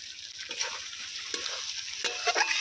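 Mutton curry sautés in a pan, a close sizzle with repeated scraping stir strokes every half second or so, growing busier toward the end, and no one speaks.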